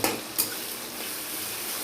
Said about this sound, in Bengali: এবার এটা আমি একটুখানি ভাজা করে নেব।